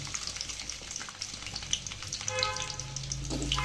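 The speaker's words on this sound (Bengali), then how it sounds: "আমি চাই যে পেঁয়াজটা একটু ব্রাউন কালার আসুক, এই জন্য পেঁয়াজটা ছেড়ে দিলাম" Onions with ginger fry in a pan with a continuous crackling sizzle, joined partway through by a brief rising hum and clatter as the cooking goes on.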